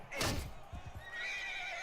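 A horse neighs in the video game Mount & Blade II Bannerlord, one loud, close whinny that falls away, followed by a few soft hoof thuds and a steady high whine.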